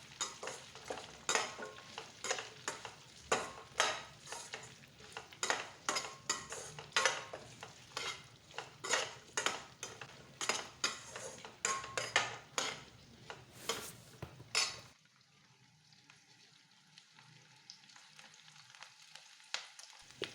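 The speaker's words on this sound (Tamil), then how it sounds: "இப்போ பூண்டும் 1 நிமிஷம் வதக்கணும்" Onion and garlic sauté in a pan under a spatula's repeated scraping and clinking over a soft sizzle for most of the stretch, then only faint background noise.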